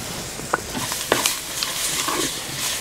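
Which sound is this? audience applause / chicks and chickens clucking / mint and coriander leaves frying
mint and coriander leaves frying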